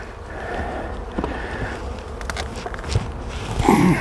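Honey bees humming around a crowded hive entrance fitted with an entrance reducer, a steady close buzz with occasional louder passes of individual bees near the listener.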